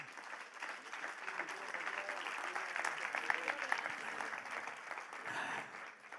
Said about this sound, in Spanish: Denle un aplauso, claro que sí.